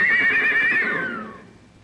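A horse neighs loudly and close by at a stable, a single wavering whinny that trails off and fades out.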